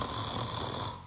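A doctor imitates a congested child's snoring with one rough, rasping nasal breath, loud and close, heard alone.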